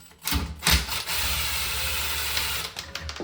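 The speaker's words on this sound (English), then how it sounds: "these 2 plastic Phillips head screws you're going to want to unscrew" A plastic Phillips head screw on a toilet seat is turned with a screwdriver, giving a few close ratcheting clicks followed by a stretch of scraping, grinding turns that trail off into more scattered clicks, with no speech.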